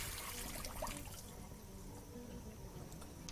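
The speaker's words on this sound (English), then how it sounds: "proceed to use your same sieve and very simply pour your noodles over" Softened noodles and their water poured through a sieve, a steady close rush of draining liquid with a light trickle, even and unbroken throughout.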